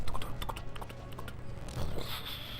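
A fiery horse creature summoned in Final Fantasy XII, heard as a quick run of hoof-like clops and thumps, then a rising whoosh near the end, close and moderately loud.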